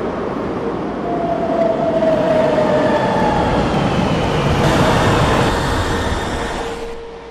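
A São Paulo Line 6 metro train runs with a loud, steady rumble, rising and falling whines from its motors and faint rail clatter, heard from inside the car.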